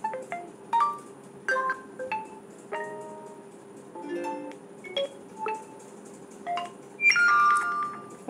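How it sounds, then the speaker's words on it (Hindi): Short message tones on an Oppo F9 phone play one after another, bright chiming electronic melodies of a second or so each, separated by brief gaps over a low steady hum. "मैं आपको सारे रिंगटोन प्ले करके दिखा रही हूँ।"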